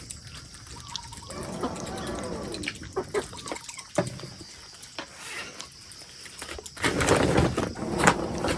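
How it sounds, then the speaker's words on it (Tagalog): Farm chickens on a mountain farm cluck intermittently during feeding, mixed with trickling water and scattered handling noises, with a louder burst of activity near the end. "Papakain si Papa ng mga manok namin."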